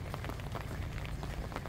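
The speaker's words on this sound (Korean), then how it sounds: "비가 와서요." Steady rain falls at Geojin harbor during mackerel fishing, a dense, continuous patter of drops with no voices, close and even throughout.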